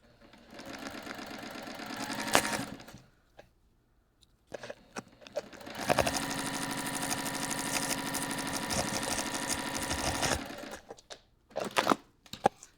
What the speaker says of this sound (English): I am going to stitch this once more.